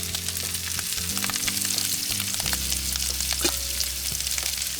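Sausage and potatoes frying in a pan, a loud continuous sizzle up close with scraping stirs breaking through now and then and a low hum underneath.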